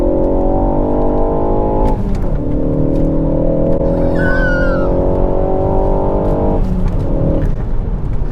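A 2020 Ford Focus ST with a 2.3-litre turbocharged four-cylinder petrol engine pulls hard, its engine droning loud and steady with a gear change partway through and a brief tyre squeal.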